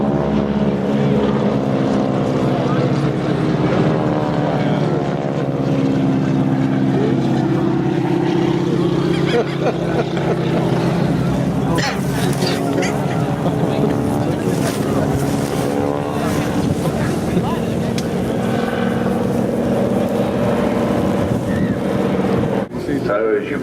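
Breitling wingwalker biplane flying a diving pass at the Farnborough Airshow, its engine droning steadily and loud throughout, mixed with heavy wind buffeting on the microphone, while a commentator talks over it.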